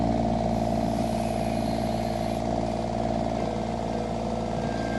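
The engine of a Derette XC1100 runs steadily at about 2300 RPM. It makes a loud, even, sustained drone with a faint clattering texture, close up, with no pitch change across the short stretch.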